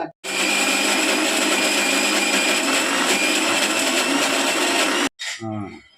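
A kitchen mixer grinder whirs steadily for about five seconds grinding masala with chilli powder, a loud continuous motor drone that cuts off abruptly, followed by a brief voice.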